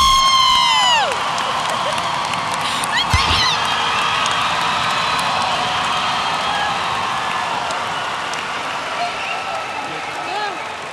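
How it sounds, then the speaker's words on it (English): Class of 2015 graduates at a high school commencement let out a crowd cheer with whoops and shouts. It opens with a loud sustained tone, then settles into a broad, steady roar of voices. "One last cheer for the class of 2015."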